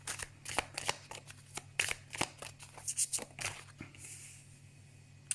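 Tarot cards being drawn and shuffled, a quick series of crisp papery riffles and flicks with irregular bursts, close and fairly quiet, no talking.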